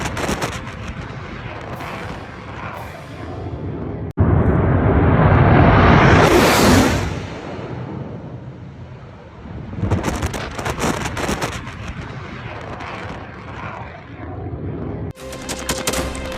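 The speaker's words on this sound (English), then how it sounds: "F-22 Raptor unrestricted climb with full afterburner" An F-22 Raptor fighter jet on an unrestricted climb at full afterburner, heard as a sudden loud, broad roar that swells into a peak and then fades, with sharp crackling bursts later and gusty wind noise on the microphone.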